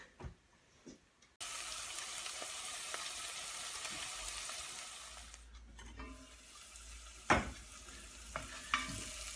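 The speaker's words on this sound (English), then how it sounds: "these onions have already started to go brown and they're caramelising nicely" Onions caramelising in a frying pan give a low, even sizzle that starts abruptly and runs steadily, with a few louder clatters and scrapes toward the end.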